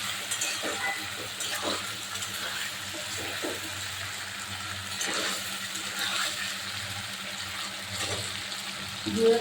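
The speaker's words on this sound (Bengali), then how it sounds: "আলু দিয়ে দিয়েছি, দিয়ে দেবো আদা বাটা আর রসুন বাটা। দিয়ে আমি ভালো করে এটা কষাবো এখন।" Potatoes with ginger paste and garlic paste being sautéed in a pan give a soft, steady sizzle, with faint stirring scrapes running throughout at a moderate level.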